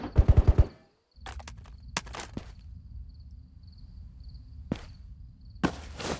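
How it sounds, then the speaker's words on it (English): Bursts of gunfire from the VR shooter Ghosts of Tabor: a rapid automatic string up close at the start, then scattered single shots and short volleys at varying distances over a low rumbling ambience. "It's a lot of shooting."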